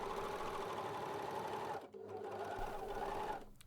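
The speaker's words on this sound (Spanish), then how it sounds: "Con la máquina a 4 hilos, con las 2 agujas, debo coser realmente hasta el fin de la tela y entonces girarla" A four-thread overlock sewing machine with two needles runs steadily while finishing a fabric edge, a loud continuous mechanical whir with a brief dip near the middle as the fabric is repositioned, then resuming.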